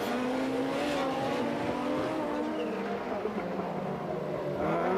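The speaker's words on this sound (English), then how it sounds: "Look at Arneson in the Audi. It's a big car. He slides very wide indeed" Rallycross race cars, including a large Audi, slide through a chicane at a 1991 event. A continuous loud engine roar blends with tyre squeal and skidding that holds steadily throughout.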